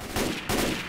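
A short, loud volley of rifle gunfire in the zombie co-op shooter Left 4 Dead 2, with two quick overlapping bursts and no voices.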